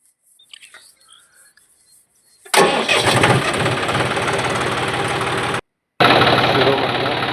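A farm vehicle's engine starts up in a field with a sudden loud crank and catch, then runs at a steady, rough idle close by, cutting out briefly near the end before resuming; quiet sounds and a few faint voices come before it.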